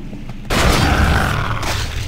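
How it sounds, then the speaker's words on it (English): Gravity gun launching a saw blade in Half-Life 2, a sudden heavy boom that breaks in after a quiet moment and rolls on as a dense roaring blast, loud and close. "The thunderous boom of the gravity gun as you launch the saw."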